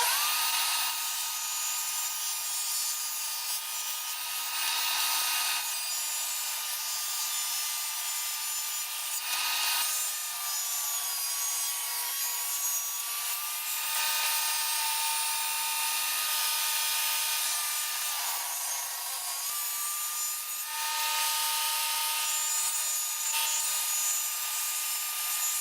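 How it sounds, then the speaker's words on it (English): A saw fitted with a 7¼ inch blade cuts through wood for a storage box, a continuous loud whine with slight pitch wavers and a few brief dips as the cut progresses, no voices. "I put a 7¼ inch blade in here so that I won't waste as much wood from the saw curve, and it cuts a lot cleaner too"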